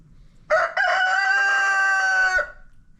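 A rooster on a farm crows once, close and loud, a long strained cock-a-doodle-doo that holds steady for about two seconds and then trails off, with no talking.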